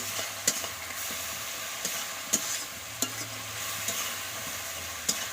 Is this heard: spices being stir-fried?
yes